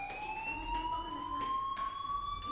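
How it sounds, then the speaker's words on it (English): A fire alarm rings in the video game Life Is Strange, a steady electronic tone that holds throughout without pause, fairly loud and alone with no voices over it. "do you hear that fire alarm? That means you should be outside."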